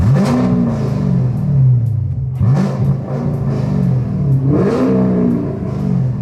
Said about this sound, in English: let me give you guys a little rev since the top's down